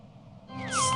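A cartoon cat gives a single rising-then-falling meow, clear and close, with no voices over it.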